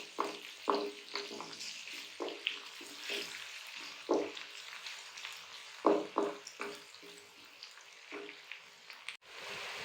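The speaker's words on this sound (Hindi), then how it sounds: "प्याज फ्राई हो रहा है।" Onions and cumin seeds fry in a pan on a lowered stove flame, giving a steady close sizzle broken by sharp, irregular stirring scrapes and clinks, with no talking.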